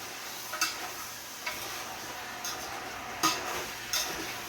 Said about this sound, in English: Then I had my oxtail in it. See? Stir it in very well.